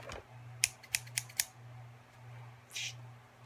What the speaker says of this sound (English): You can use your scissors